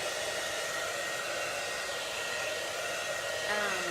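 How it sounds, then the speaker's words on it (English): Heat gun blowing a steady, loud stream of hot air to dry screen printing paste, an unbroken whooshing drone that holds without pause throughout. "I'm gonna hit this bottom one with some heat just to dry it"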